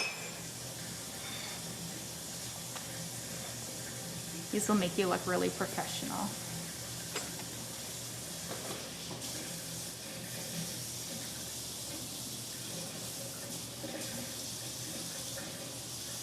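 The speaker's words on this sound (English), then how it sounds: "I'm just gonna get a little bit of warm water going." Warm water runs from a kitchen tap into a jug as a low steady hiss, with a brief louder gush partway through. A person talks over it.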